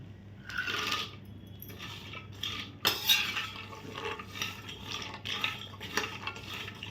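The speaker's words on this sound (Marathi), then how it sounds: "पिस्ता पण आपल्याला छान परतून घ्यायचा आहे." Pistachios roasting in ghee are stirred in a pan, giving quiet, irregular scraping and light clinks of a utensil against metal, close by with short bursts and a faint sizzle underneath.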